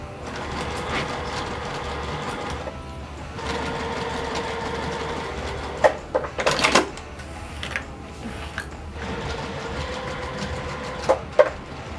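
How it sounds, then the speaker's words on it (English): A sewing machine stitches a half-inch seam around the edge of a quilt, a steady mechanical whirring run that pauses briefly midway with a few sharp clicks and handling knocks before resuming. "I'm going to sew a 1/2 inch seam all the way around this"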